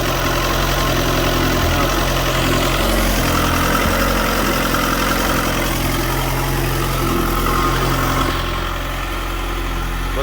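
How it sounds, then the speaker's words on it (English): A Dodge Neon ACR fitted with a billet-wheel turbo idles steadily and loudly up close, with a constant throbbing drone and no voices. "Oh, she sounds healthy like before."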